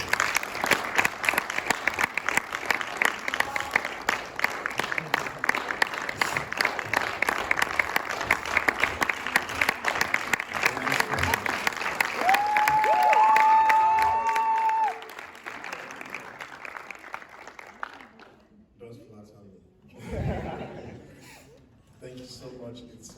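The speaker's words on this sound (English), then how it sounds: "A round of applause, please." Audience at a leadership forum applauding a speaker, a long dense round of clapping with some crowd noise and a brief tone, fading out before a voice begins to speak.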